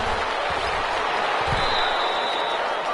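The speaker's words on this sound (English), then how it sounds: "How about some applause for the defense there?" Crowd applause in a PS4 American football video game, a steady broadband roar of clapping and cheering from a stadium crowd, continuous and fairly loud throughout with no talk over it.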